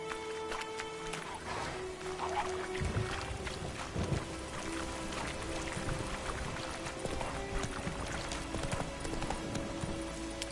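In The Witcher 3 video game, horse hooves gallop in a steady, rapid clip-clop beneath a busy game soundscape, loud and continuous throughout with a low rumble underneath.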